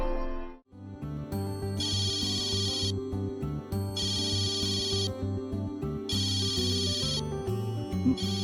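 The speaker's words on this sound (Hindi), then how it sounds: "मालकिन के घर से फोन आ रहा है।" A telephone ringtone plays in three repeating bursts of bright electronic ringing over a steady musical backing, loud and close, with no talking.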